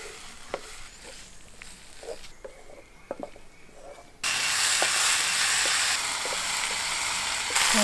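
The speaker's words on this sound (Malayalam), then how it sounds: "ഇനി നമുക്ക് ഈ തക്കാളിയും കൂടെ ഇതിലിട്ട് വഴറ്റിയെടുക്കാം." Tomatoes added to okra in a pan set off a sudden loud, dense sizzle that carries on steadily to the end, after a quieter stretch of soft taps and scrapes; no voices.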